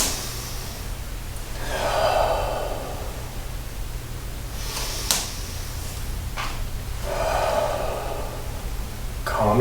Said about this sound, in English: Let's breathe in.